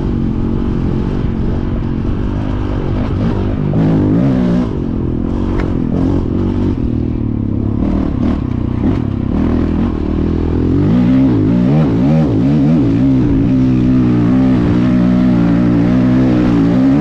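A Honda CRF450X dirt bike runs downhill in fourth gear at low throttle, its engine a loud, close, steady drone with shifting pitch, over a clatter and scrape from the rough terrain and no talk.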